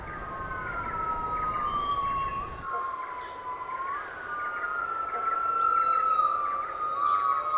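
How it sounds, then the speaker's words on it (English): Rising and falling whooping calls of yellow-cheeked gibbons echo over a steady forest background, with long sliding wails overlapping one another at moderate distance. "Each morning, the canopy is filled with the calls of yellow-cheeked gibbons."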